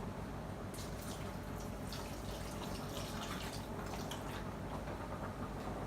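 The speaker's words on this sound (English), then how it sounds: "I will now be adding my stock" Stock poured into a pan of cooking pie filling, a faint, steady watery rush that stays even for several seconds without any talking.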